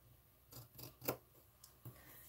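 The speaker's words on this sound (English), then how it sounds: "So I'm going to take my scissors and I'm" Scissors snip through fabric for a hard-cover journal cover in a few quiet, crisp cuts, one sharper snap standing out midway.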